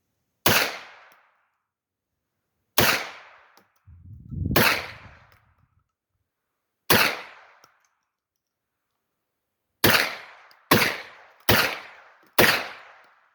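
Smoothbore hunting shotgun firing and ejecting shells, including ceramic and a faulty bent cartridge: eight sharp, loud reports with short decays, spread out at first, then four in quick succession near the end.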